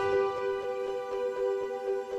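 Arturia Augmented Grand Piano plugin on its layer B blue piano sound, a held tone with a gently pulsing, shimmering repetition throughout, moderately quiet and without voices.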